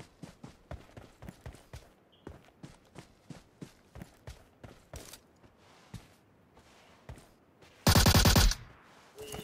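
Gunfire in the mobile battle royale game PUBG Mobile, a string of evenly spaced single shots with footstep-like thuds, then a loud close burst of rapid automatic fire near the end.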